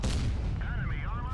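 A Sheridan light tank's cannon fires in WoT Blitz: a loud, close blast at the start, followed by a wavering, whistling electronic tone as the shot resolves.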